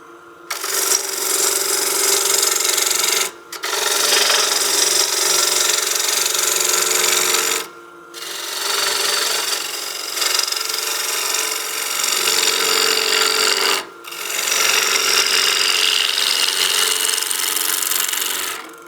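Woodturning lathe roughing out the bottom of an artifact pot, a steady loud scraping cut of tool against spinning wood in three long passes separated by brief pauses, with no talk.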